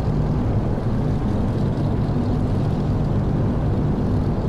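Twin piston engines of a DC-3 in a flight simulator game roar at takeoff power, a dense, steady, loud drone with low throbbing tones that holds unbroken throughout.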